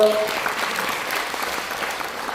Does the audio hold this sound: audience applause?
yes